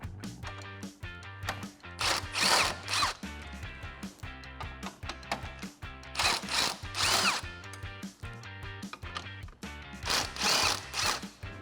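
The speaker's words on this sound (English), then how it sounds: "grab your 10mm socket and remove all 4 of the bolts on the top of the grill" Power tool spinning a 10mm socket to remove the upper grille bolts on a 2014-2015 Chevrolet Silverado 1500, coming in repeated short whirring bursts of a couple of seconds each, close up and fairly quiet.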